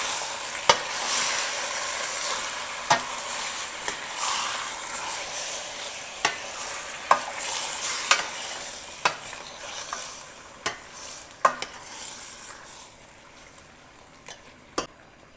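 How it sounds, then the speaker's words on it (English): Chicken biryani being stirred in a frying pan: a steady sizzle with repeated sharp spoon scrapes and knocks against the pan, close and fairly quiet, no talking. "I'm going to stir it"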